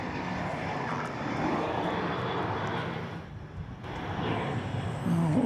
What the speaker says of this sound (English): Just a flight taking off from the east side